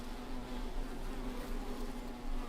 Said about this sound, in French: Bon là, il y a du frelon partout ici.